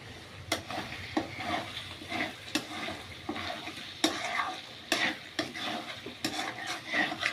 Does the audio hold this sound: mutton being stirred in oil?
yes